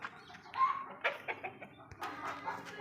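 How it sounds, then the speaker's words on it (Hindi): A black hen with her two chicks clucks nearby, short soft clucks and peeps in an irregular patter over faint background noise. "काली मुर्गी और उसके दो बच्चे माशाल्लाह खूबसूरत।"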